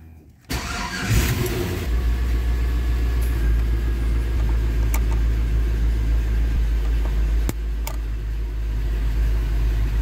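A 5.3L LS V8 swapped into an S10 truck with the air conditioning running starts up and settles into a loud, steady, close idle with a deep rumble, broken by a few brief clicks.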